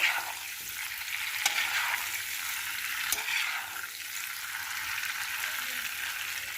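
A spatula stirs and scrapes potatoes roasting in a hot oiled pan, a continuous close sizzle with occasional sharp scrapes at a steady, moderate level.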